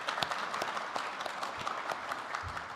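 An audience at an Ontario medical isotope announcement gives a steady round of applause: dense, even clapping from a crowd at moderate distance that carries on throughout without pause.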